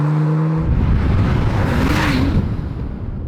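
A Porsche 991 Turbo S pulls away and drives, a low engine hum swelling into a loud rushing whoosh of acceleration and road noise, close by, then easing off; no voices.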